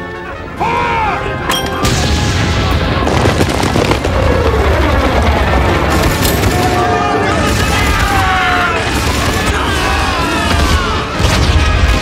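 Machine gun and artillery fire in a desert film battle, heavy booms and crashing blasts over continuous rattling gunfire, loud and close, with shouted voices mixed in.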